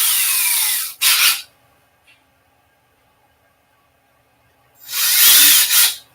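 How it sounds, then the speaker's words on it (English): Power drill pre-drilling a hole for a rainbow pistol build: two short loud whirring bursts, then a quiet gap with a faint tap, then a longer loud drilling burst near the end. "Maybe I should pre-drill the hole first."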